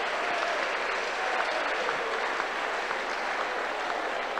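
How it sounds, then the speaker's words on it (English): Church congregation clapping in praise at a deliverance testimony service, a dense, steady wash of many hands that stays loud and even throughout. "Let us clap unto this God of choosing."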